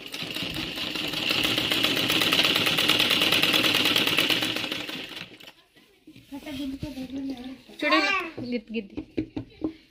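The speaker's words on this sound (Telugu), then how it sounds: "సెట్ చేసుకొని స్టిచ్చింగ్ అయితే స్టార్ట్ చేసుకోండి" A sewing machine stitching a saree fall runs in a steady, fast rattling whir for several seconds, then stops as someone speaks close by.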